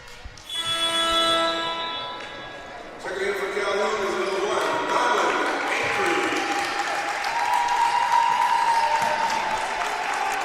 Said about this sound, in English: Kasai gets a really nice round of applause from the Calhoun crowd